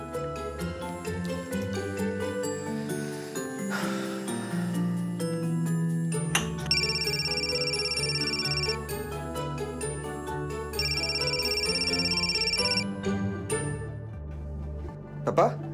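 A phone rings with a bright electronic ringtone in two sustained bursts over background music, while a son tries to call his father, with no clear talking.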